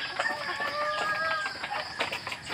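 Farm chickens in cages cluck and warble nearby in overlapping, uneven bursts over a constant hum of background noise.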